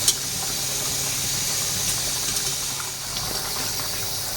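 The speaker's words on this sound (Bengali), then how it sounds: "বয়েল করার মাঝে মাঝে এভাবে একটু নেড়ে নেড়ে দেখতে হবে" Curry simmering down in a pan for a bhuna of egg with green papaya, giving a steady close hiss and bubbling with faint scraping from stirring, no talk.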